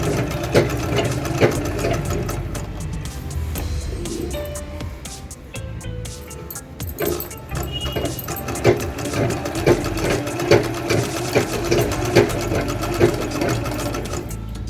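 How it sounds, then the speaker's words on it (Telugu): A sewing machine runs steadily, stitching a fall onto the hem of a saree with a zigzag stitch, a continuous close mechanical whir with regular rhythmic ticks, no talking. "ఇప్పుడు కుట్టడం స్టార్ట్ చేయండి."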